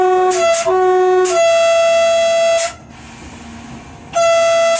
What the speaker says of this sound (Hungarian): Már kezdi a kürt